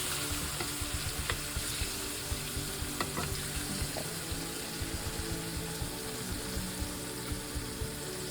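Chicken browns in a little olive oil in a skillet, filling the space with a loud, dense, steady sizzle and crackle, close up, marked by small regular ticks and light stirring, with no voices.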